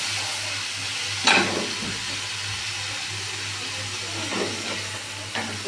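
Tomato and ginger paste frying in a pan gives a soft, continuous sizzle and hiss with a low steady hum beneath, plus a couple of brief stirring scrapes, close and fairly quiet.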